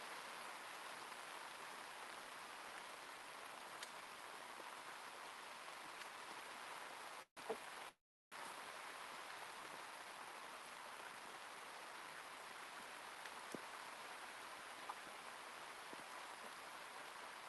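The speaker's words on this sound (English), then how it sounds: "It's raining, y'all. It's raining." Steady outdoor rain falls over a garden with okra and kale, a dense even hiss throughout with a couple of brief dropouts and occasional sharper drops, no voices.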